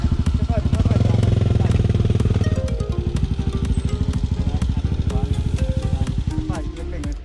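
A dirt bike engine revs hard and steadily on an enduro trail near Lampang, a loud, close, pulsing rasp that sags slightly toward the end, with riders talking over the noise.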